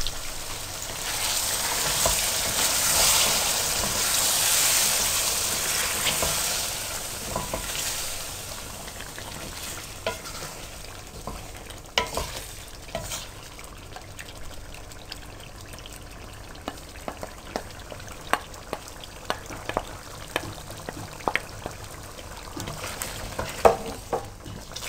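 Chicken for a masala curry fries in a pan as whisked yogurt goes in, giving a loud hissing sizzle at first that fades into softer bubbling with scattered clinks and scrapes of stirring.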